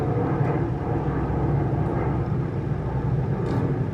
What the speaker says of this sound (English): I live near an airport, so all the planes are really low